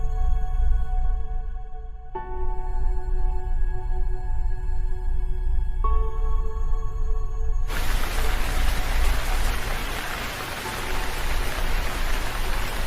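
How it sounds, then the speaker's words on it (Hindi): Heavy cartoon rain pours down as a dense, continuous hiss, growing fuller and louder partway through, with steady tones layered underneath at first. "बारिश बहुत ही तेजी से हो रही थी और बारिश रुकने का नाम ही नहीं ले रही थी"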